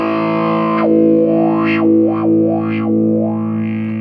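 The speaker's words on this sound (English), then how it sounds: "This one is really nice for distorted sound." A distorted electric guitar runs through a Zoom G3Xn multi-effects pedal in a metal tone, giving a loud sustained chord with a sweeping, wah-like filter moving up and down.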